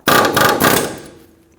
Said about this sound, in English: we're just going to put our air hammer on this here and just tap that out